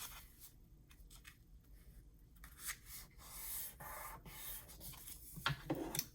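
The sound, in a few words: folding paper for a gift pocket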